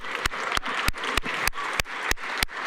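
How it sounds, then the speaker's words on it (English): Soft applause from a school audience fills the room at low volume, punctuated by a few sharp, evenly spaced loud claps roughly three times per second. "Let's give another round of applause."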